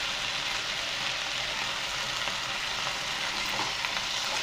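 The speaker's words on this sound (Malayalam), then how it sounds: "അതിലേക്ക് നമുക്ക് നമ്മുടെ കോവയ്ക്ക ചേർക്കാം ഒരല്പം ഉപ്പും കൂടി ചേർത്ത് വഴറ്റാം" Ivy gourd with onions, green chillies and salt sautéing in a pan, a steady close hiss of frying with soft stirring scrapes throughout, no voices.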